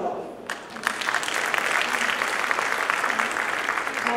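A conference audience breaks into applause, a dense steady clapping that builds within the first second and carries on loud and even to the end.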